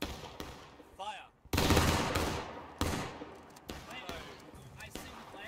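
A company fires a musket volley in the Civil War game War of Rights, a loud crashing burst followed by scattered further shots and echoes, with shouted voices among the noise.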